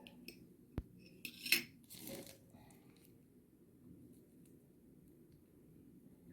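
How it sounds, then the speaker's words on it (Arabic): Banana being sliced for a fruit cocktail in a home kitchen: a few faint knife taps and clicks against a plate early on, then quiet handling noise, with no voices. "نقطع باقي موزه كلبوزه"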